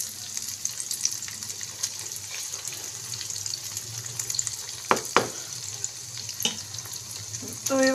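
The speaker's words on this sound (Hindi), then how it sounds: "इस तरह से हम इसकी साइड चेंज करते जाएंगे और इनको दोनों तरफ से अच्छे तरीके से फ्राई" Chicken and mixed vegetable kebabs frying in a pan give a steady, close sizzle throughout, with a few sharper clatters of a utensil turning them near the middle and end.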